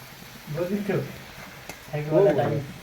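Rice fries for fried rice, sizzling steadily in a hot pan with faint stirring scrapes, while a voice speaks over it in two short bursts.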